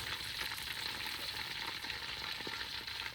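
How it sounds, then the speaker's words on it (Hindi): Chicken pieces fry in oil in a pan for a Schezwan chicken dish, giving a steady, close hiss of sizzling with faint clicks of stirring throughout and no talking. "बस बाकी भी इसे हम फ्राई कर लेंगे"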